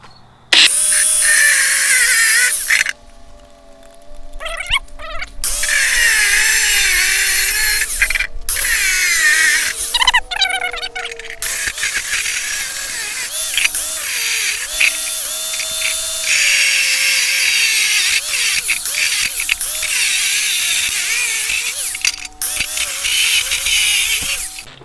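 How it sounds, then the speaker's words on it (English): Angle grinder with a cut-off wheel cutting through a metal trail camera security box outdoors, a loud sustained high whine and screech with pitch dips as the wheel bites, two short pauses, no talk. "I'm just going to take my cut wheel and my grinder and cut out all these"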